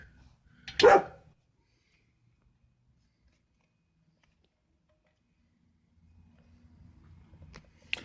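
One short dog bark sounds early, followed by a long near-silence and a soft low rumble toward the end.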